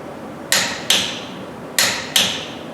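A torque wrench tightening wheel lug nuts gives sharp, loud metallic clicks, close up, in two pairs of two, set against a steady background hiss.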